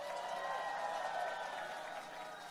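Faint, steady applause from a crowd at Lee Jae-myung's presidential campaign rally in Uijeongbu, following a performance, an even wash of distant clapping without a break.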